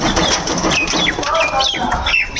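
Pigeons inside a newly built home pigeon house flap their wings and coo, with chirpy calls overlapping close by in a busy, continuous flurry.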